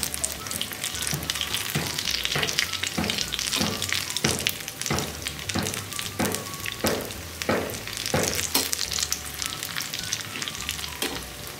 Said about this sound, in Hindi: इसे पलट पलट के अच्छी तरह से कलर चेंज होने तक और क्रिस्पी होने तक फ्राई कर लूँगी।